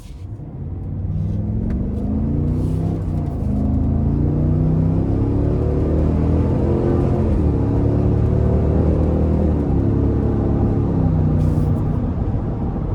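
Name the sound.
Cadillac Escalade Platinum SUV accelerating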